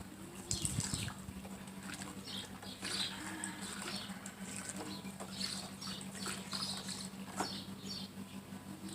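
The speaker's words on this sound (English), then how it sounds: "I'm just going to mix it up with this fork because I didn't want to ruin any of my mom's utensils" A fork stirs black fabric dye in a bowl, giving soft wet clicks and sloshing patter that repeat irregularly over a steady low hum, close and fairly quiet.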